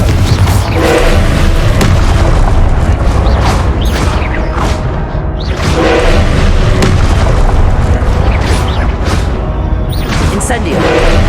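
Confringo fire spell explosions in Hogwarts Legacy: loud, continuous booming blasts that pile on one another in rapid succession over a thick rumble, with voices mixed in.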